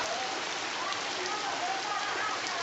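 Steady rain falling on surfaces outdoors, a dense continuous hiss at even loudness with no breaks.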